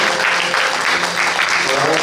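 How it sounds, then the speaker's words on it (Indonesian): Applause from a congregation during a Sunday church service in Medan, a dense, steady burst of clapping filling a large room for a couple of seconds. "Tepuk tangan sekali lagi"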